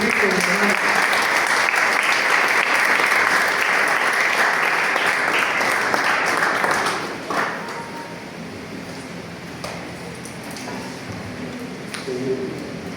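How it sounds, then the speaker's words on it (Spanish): A church congregation claps loudly and steadily for Jesus Christ at a Sunday service. The applause fades after about seven seconds into scattered claps and a murmuring room. "denle un fuerte aplauso a Jesucristo"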